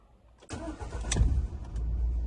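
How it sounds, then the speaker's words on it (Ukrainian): A 2007 Skoda Roomster's 1.4 MPI petrol engine cranks and catches after a half-second of quiet, then settles into a steady, loud idle rumble. "давайте спробуємо завести даний автомобіль."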